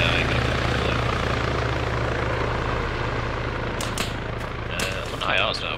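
Steady, loud helicopter rotor drone fills the scene in Arma 3, with a few sharp cracks like distant gunfire near the end.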